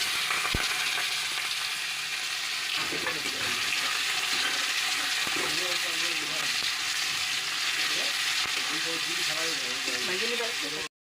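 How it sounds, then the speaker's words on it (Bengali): Chopped onion frying in a pan gives a steady, close sizzling hiss throughout, with faint voices murmuring underneath. "পেঁয়াজ কুচি দিয়ে দিলাম।"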